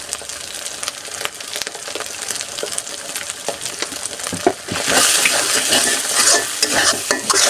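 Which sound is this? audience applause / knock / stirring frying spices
stirring frying spices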